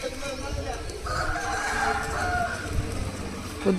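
A rooster crows in the distance in an early-morning village, a drawn-out call rising over rustling background noise, with a faint voice underneath.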